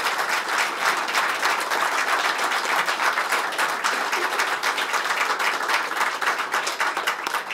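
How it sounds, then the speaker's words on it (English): A crowd at an award ceremony gives a warm round of applause for a lieutenant general. Dense, loud, continuous clapping fills the room evenly from start to finish. "Ladies and gentlemen, please give a warm round of applause for Lieutenant General Jack Klemp."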